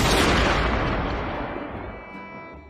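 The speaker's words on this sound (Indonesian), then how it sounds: "tiba-tiba para sniper tersebut langsung menembak Nirmal." Sniper gunfire in a film scene: a loud, dense burst of shots and booms at the start that rolls on and slowly fades over a few seconds, with no talking.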